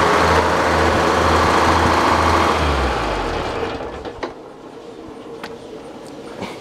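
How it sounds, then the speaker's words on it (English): A sawmill engine is running loud and steady, then it is shut off and winds down over a couple of seconds into near quiet with a few faint clicks. "Come over here and shut the engine down."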